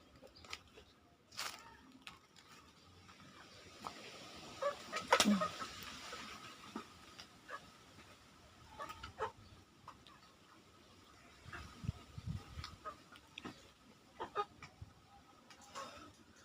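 Chickens cluck softly and intermittently while eating mango scraps outdoors, faint scattered calls and pecking over quiet background.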